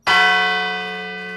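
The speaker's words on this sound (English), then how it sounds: "That's an actual bell from the Cornell Bell Tower." A real tower bell from the Cornell Bell Tower struck once, ringing loud and close with a rich sustained tone that slowly decays, heard alone.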